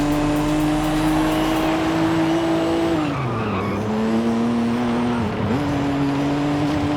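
Vauxhall Lotus Carlton lapping a track in Forza Horizon 5, its engine droning loud and steady, then dropping in pitch twice as it lifts off and revs back up through corners.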